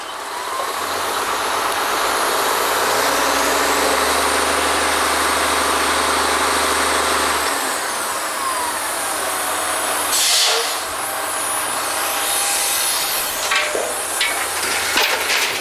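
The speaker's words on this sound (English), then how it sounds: "lower the pipe back in the hole, and go back to drilling." An oil well drilling rig roars steadily with a deep engine drone, metallic clanks and hissing bursts toward the end, loud and close with no voices.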